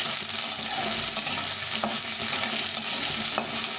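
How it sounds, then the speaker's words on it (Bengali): Unpeeled potato pieces fry with spices in a pan for a vegetarian cauliflower and vegetable curry, an even hiss of sizzling oil broken by occasional scrapes of a stirring spoon. "আলুটাকে একটু ভালো করে ভেজে নিতে হবে।"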